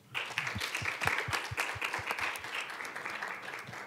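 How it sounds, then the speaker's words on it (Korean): Audience applause for five youth presenters at a Korean conference session on Korean peninsula peace and the UN SDGs, moderately distant clapping with a few distinct individual claps standing out, swelling early then thinning slightly toward the end. "다시 한번 5분의 청년 발표자들에게 큰 박수 부탁드리겠습니다."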